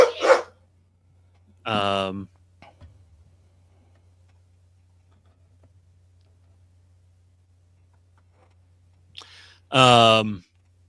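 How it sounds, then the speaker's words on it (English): A dog barks in a few loud, close, separated bursts, with a faint steady hum underneath and a short stretch of quiet between the barks. "Now my dog's going to go off."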